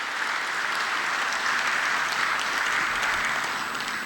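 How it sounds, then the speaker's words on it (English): Dense, steady applause from delegates at a SADC Council of Ministers meeting, honouring the outgoing chairperson, with a broad, continuous wash of clapping at fairly loud volume. "give another round of applause to the outgoing chairperson"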